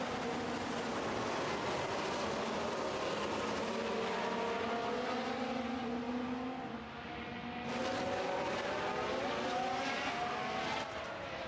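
A field of F1 cars launches from the start in the F1 Manager 23 video game, a dense, rushing roar of many engines with rising pitch sweeps as they pull away, loud and continuous without talk.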